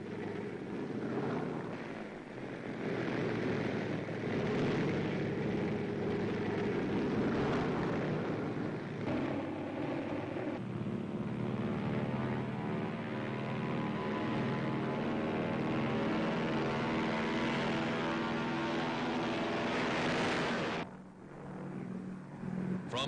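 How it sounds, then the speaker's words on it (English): Huge engines of U.S. bomber aircraft roar for a sustained stretch, a dense droning rumble that shifts into a steady harmonic hum as motors start one by one, loud and continuous before cutting off near the end. "Now, one by one, the huge motors roar."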